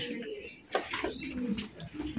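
Fancy Mussaldum pigeons coo softly in short, repeated phrases at close range, with a few faint chirps mixed in.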